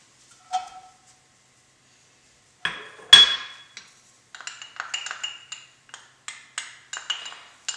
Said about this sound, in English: the first thing we're going to add to the pan is going to be our garlic and our mushrooms